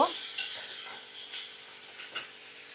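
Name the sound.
spices frying in a pan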